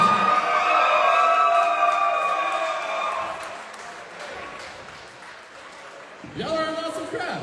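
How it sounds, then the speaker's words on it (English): The crowd at a roller derby bout makes a broad roar of cheering and noise that rises after an announcer speaks, then gradually fades before a voice talks again near the end. "Please make some noise for these lovely ladies and gents."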